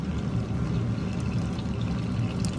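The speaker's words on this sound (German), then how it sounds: "Die ganze Flüssigkeit vom Fleisch kommt da rein." Meat juices are poured into a pan of hot oil on medium heat, making a steady, soft pouring and bubbling sound for a few seconds.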